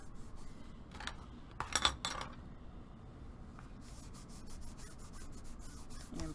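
A tool burnishes a paper craft piece flat on a camera box project. Soft scraping rubs come in a brief louder cluster of strokes, then continue as quieter repeated passes.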